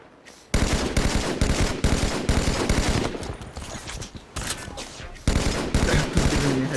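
Rapid bursts of gunfire from the Halo 5 video game, loud and dense, running nearly the whole time with brief gaps and one quieter stretch midway.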